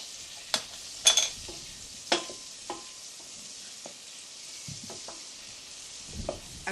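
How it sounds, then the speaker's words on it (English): Butter with a clove of garlic sizzles and spits in a hot pan, heard as quiet, close crackles and a few sharper pops and stirring clicks, with no talking. "You can hear the butter sizzling away there."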